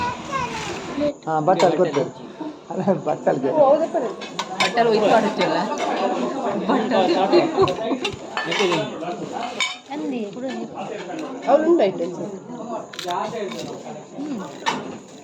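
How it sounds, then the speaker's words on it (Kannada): A family seated together eating a meal at a first birthday gathering, plates and cutlery clinking amid constant overlapping chatter and children's voices. "ಇಲ್ಲಿ ನಾವೀಗ ಕುತ್ಕೊಂಡು ತಿಂತಿದ್ದೇವೆ."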